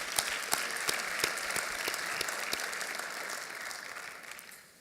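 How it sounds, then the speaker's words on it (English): Audience applause at a Martin Luther King Jr. Crown Forum after a glee club performance, dense sustained clapping from a large crowd with a few sharper nearby claps, fading slightly at the end. "Let's give them another round of applause."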